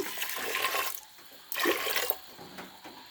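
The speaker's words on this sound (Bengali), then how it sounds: "মাপ মতন জল দিয়ে দিচ্ছি" Water poured into chickpea dal with chopped ginger in a kitchen pot, two gushing pours of moderate loudness with brief pauses, no talk heard.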